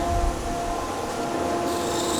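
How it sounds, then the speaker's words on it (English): Abrasive paper rubs steadily against a wooden wand, a close, continuous rasping scrub with no pauses and no voices over it. "Might just drop back with the abrasive a little"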